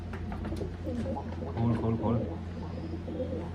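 Pigeons coo in low, rounded repeated notes near the middle, over a steady background hum with faint voices.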